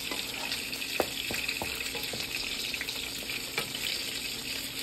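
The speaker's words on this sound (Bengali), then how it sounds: "বাকি ভেজিটেবলসগুলো আমি ভেজে রাখছি" Vegetables fry in hot oil for khichuri, the bhog for a Saraswati Puja cooked at home in the USA. A steady, close sizzle carries occasional sharp pops and stirring clicks, with no talking.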